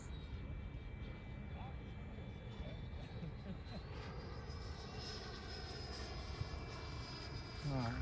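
Electric ducted-fan whine from an E-flite F-16 Falcon 80mm RC jet, a steady high hum held at a distance throughout, with wind and outdoor rumble and people talking over it.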